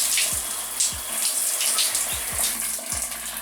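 Steady running water from a tap rinses conditioner out of thick hair, a continuous close splashing hiss with a few brief shifts as the stream is broken and moved.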